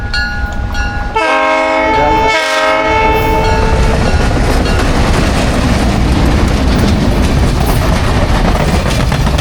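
A loud train air horn sounds in two blasts over the rumble of a passing train, followed by continuous rolling rail noise.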